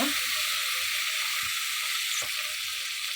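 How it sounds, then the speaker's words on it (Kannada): Double beans frying in a pan, a steady broad sizzle running the whole time with a couple of faint soft knocks or stirs, no talking. "ಈಗ 1-2 ನಿಮಿಷ ಹಾಗೆ ಫ್ರೈ ಮಾಡ್ಕೊಳ್ಳೋಣ"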